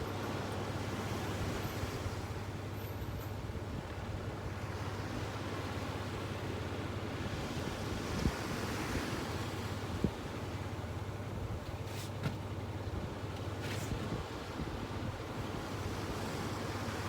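Sea waves roll onto a beach where a traditional boat is launched for herring gill netting, a continuous wash of surf mixed with wind buffeting the microphone and a few faint knocks.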